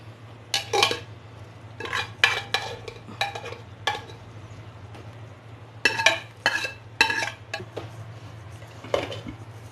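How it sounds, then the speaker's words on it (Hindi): A spoon stirs mustard greens saag with spices in a metal pan, producing repeated close scraping and clinking strokes in bursts over a steady low hum, with no speech. "चलिए इनको सारी चीज़ों को अच्छे से मिक्स कर लेते हैं"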